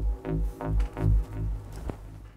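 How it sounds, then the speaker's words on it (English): A reversed audio stem spun backwards into a drag effect, heard as smeared swelling hits with a rising tonal sweep that drops away to near silence at the end, no voices. "using an audio stem and spinning it straight round"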